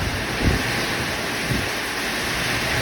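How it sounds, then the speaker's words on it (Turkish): Heavy rain pours down in a dense, steady hiss, with wind gusting through it and a couple of low rumbling swells. "Çok kuvvetli yağmur ve rüzgar da var arkadaşlar."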